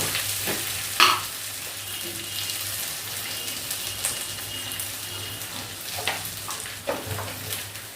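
Green chili paste and salt frying in a pan with a soft continuous sizzle, broken by occasional scraping stirs and knocks, close but fairly quiet over a low background hum.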